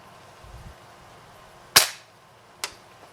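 A Gamo PCP airgun firing .22 pellets: a sharp, close crack followed by a second, fainter shot about a second later, against a quiet background.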